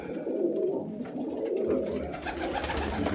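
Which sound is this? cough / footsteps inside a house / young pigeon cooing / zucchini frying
young pigeon cooing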